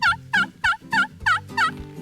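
A wild turkey gives a series of six sharp, evenly spaced yelping calls, loud and close, each a quick rising-and-falling note with brief pauses between them.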